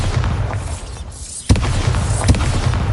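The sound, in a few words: Bombarda spell explosion in the video game Hogwarts Legacy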